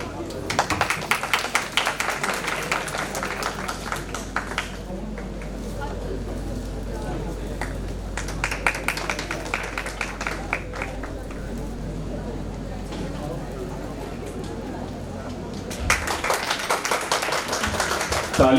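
At a college farewell party for a physiotherapy batch, an audience claps in bursts, loud near the start and again near the end, with talk and crowd murmur filling the quieter stretch between.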